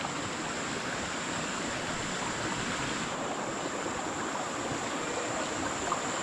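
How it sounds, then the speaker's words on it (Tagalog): Steady broadband rushing of water, like a small stream flowing nearby, constant and even throughout with no voices. "nagtaka po kami sa aming maliit na sapa dito."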